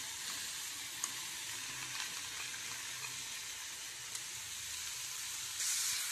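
Paneer roll stuffing with chilli sauce, tomato sauce and coriander sizzles steadily in a pan as it is sautéed, a constant close hiss broken by a few faint stirring clicks.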